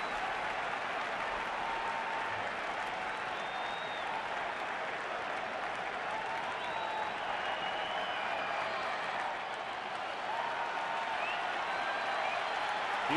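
A huge home crowd of nearly 40,000 at a night baseball game cheers and applauds in a loud, dense, sustained roar that never lets up, with faint whistles rising through it.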